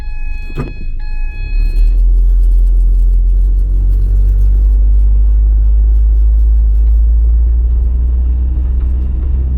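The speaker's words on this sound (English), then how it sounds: "So we're on a road test." A 2012 Ford Transit on a road test gives a loud steady low engine and road rumble from inside the cabin, droning on after a brief click at the start.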